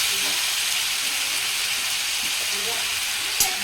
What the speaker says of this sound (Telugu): ఇంక ఇప్పుడైతే అల్లం పేస్ట్ వేసేసుకున్నాము. అల్లం పేస్ట్ పచ్చివాసన పోయేంత వరకు మగ్గించుకోవాలి.